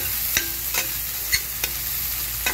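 Pepper rice with mixed vegetables being stirred in a frying pan: a handful of sharp utensil scrapes and taps spaced irregularly over a soft, steady sizzle, close up with no talk.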